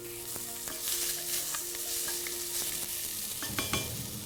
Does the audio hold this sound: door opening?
no